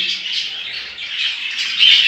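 A caged budgerigar squawks in a steady, shrill, chattering stream, close and fairly loud, brightening toward the end.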